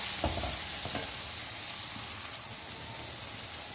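Boiled potatoes and eggs stirred gently in a frying pan, a quiet steady sizzle with a few soft scraping strokes near the start.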